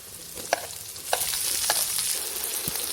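Scraping and clinking of a spoon stirring potatoes, tomatoes and green chillies in a pan, a few distinct strokes over a steady sizzle of frying.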